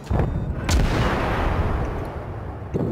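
Warship artillery in World of Warships fires in a couple of heavy booming salvos, with deep, rolling low rumble trailing between the shots.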